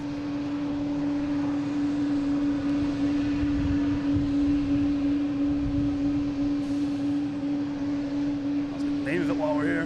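A large airliner at Boston Logan International Airport gives off a loud, continuous engine drone with a steady tonal whine. The roar stays close and unbroken throughout.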